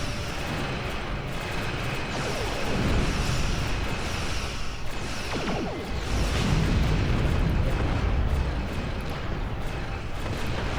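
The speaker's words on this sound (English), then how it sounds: "He shot my plasma torpedo down." Plasma torpedo shot down and bursting in a Star Trek Online space battle, heard as a continuous loud roaring rumble with swelling explosive surges, steady and dense throughout.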